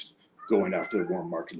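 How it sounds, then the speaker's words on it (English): A pet cat named Leo lets out a drawn-out meow over a man's speech, faint and somewhat distant in the room, the voice continuing on top of it. "That's my cat Leo in the background."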